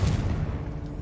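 Fiery blasting spell going off in Hogwarts Legacy, a dense, continuous rumbling blast with heavy low-end crackle that stays loud across the whole moment before easing slightly.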